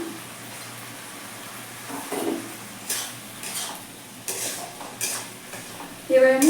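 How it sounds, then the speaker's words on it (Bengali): Spices and a few pieces of capsicum, with onion, ginger, garlic and green chilli for a potato chicken curry, fry and get stirred in a pan: soft sizzle under intermittent scraping strokes, then a louder clatter at the end. "মশলাটাকে ভালো করে কষিয়ে নেব"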